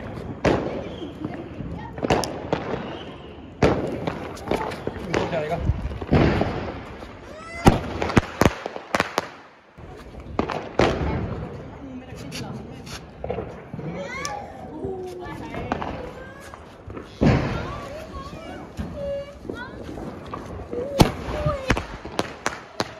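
Cheap Diwali firecracker shots burst in a string of loud, sharp bangs spread unevenly across the scene, with children and adults talking and calling out between the explosions.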